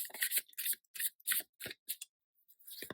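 A Rider-Waite-Smith tarot deck is shuffled by hand, giving a quick series of crisp, close card riffles and snaps for about two seconds, then a brief pause before a final flurry, with no talking.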